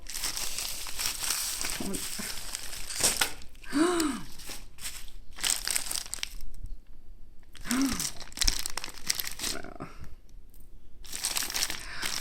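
Bubble wrap with beads tucked inside being handled and unwrapped up close, producing loud crinkling and crackling in uneven bursts broken by short quiet gaps.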